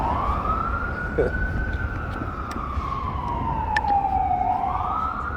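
An ambulance siren wails, its pitch sweeping slowly up and down over street traffic noise, fairly close and prominent.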